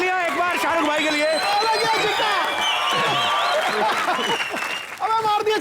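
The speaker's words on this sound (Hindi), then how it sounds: "जोरदार तालियां एक बार शाहरुख भाई के लिए।" A studio audience at a comedy show breaks into strong, sustained applause with cheering for Shah Rukh Khan, dense clapping throughout and a host's voice over it.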